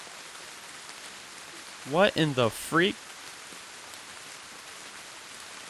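Steady rain falls throughout a scene in a horror video game, a constant even hiss while a person speaks briefly over it midway.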